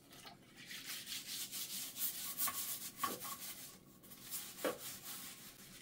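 Toilet brush bristles scrub back and forth against a toilet bowl in steady rasping strokes, close up, with no talking.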